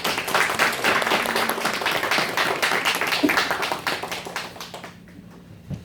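A church congregation gives welcoming applause during a Sunday service, brisk close clapping from many hands that fades out abruptly near the end.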